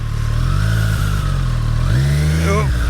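A 2023 Triumph Street Triple 765 RS rides at slow speed, its engine humming close and steady, then a throttle blip rises in pitch near the end, with a rider's voice talking over it.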